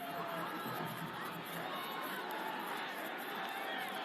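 A rugby sevens stadium crowd at the Edmonton 7's 2021, Kenya versus USA, keeps up a loud, continuous roar of cheering and chatter throughout, with no clear breaks.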